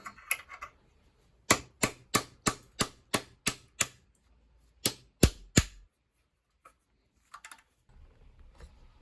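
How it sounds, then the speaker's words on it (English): Cold chisel hammered against a cheap padlock shackle clamped in a vise: a rapid run of about ten sharp metallic strikes, a pause, then three heavier blows, ringing loud and close. "Let's open it again with a cold chisel."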